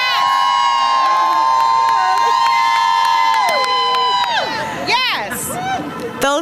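A crowd of disability-rights supporters at a housing rally screams and cheers loudly and continuously, with shrill whoops and high voices layered over a dense roar that briefly dips and then swells again near the end.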